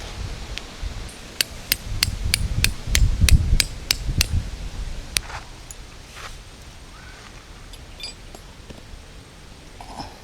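A quick series of sharp metallic hammer strikes driving tent stakes rings out in a steady rhythm at a campsite, then a few scattered taps follow before quiet ambience.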